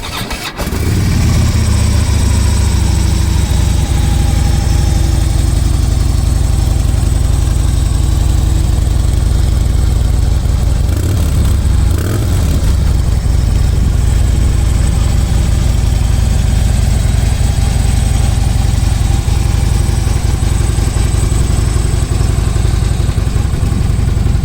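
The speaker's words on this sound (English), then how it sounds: "And if you listen to a Twin Cam," A Harley-Davidson Twin Cam engine on a Road Glide motorcycle starts up and settles into a loud, steady, deep idle rumble, heard close up for over twenty seconds with no talking.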